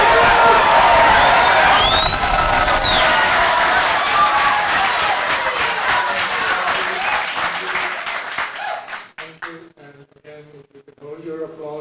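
A debate audience erupts in loud cheering, whoops and sustained applause after a congressional candidate's closing statement, then the clapping fades and a voice begins speaking.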